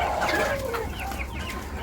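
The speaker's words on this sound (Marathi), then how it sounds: "अशा सर्व कोंबड्या आपल्या आहेत" Farm chickens clucking in short, busy bursts at fairly close range, a few overlapping calls from the flock with no talk.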